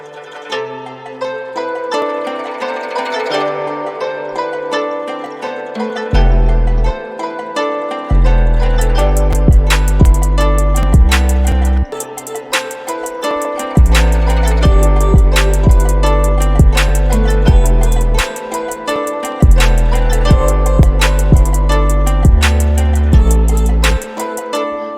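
A plucked guitar counter melody plays over a Chinese guzheng sample in an FL Studio beat, joined after a few seconds by heavy booming bass hits and crisp drums in a loud, steady groove with brief dropouts.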